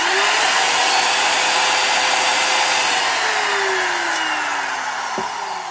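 A trim router with good bearings runs at full speed in a loud, steady high whine, pitch sagging slightly near the end as it spins down a little.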